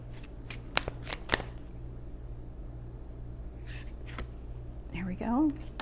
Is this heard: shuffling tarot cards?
yes